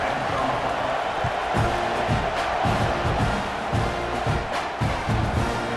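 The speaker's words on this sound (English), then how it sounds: "this crowd now ready to get behind them" A stadium crowd cheering in EA Sports College Football 26 before a kickoff, a broad sustained roar with rising swells and scattered shouts, under a commentator's voice.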